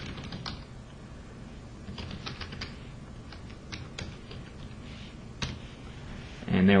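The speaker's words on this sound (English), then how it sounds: "So I'm just going to type it in." Steady keyboard typing with scattered sharp key clicks, fairly close and moderately quiet, with a slightly louder knock near the end.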